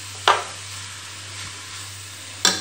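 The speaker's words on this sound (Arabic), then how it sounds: "غادي نزيد هذا الجزر، غادي نشحره" Carrots sauté in butter and oil in a pan, a quiet low sizzle under a steady hum, broken by two sharp stirring clatters near the start and end.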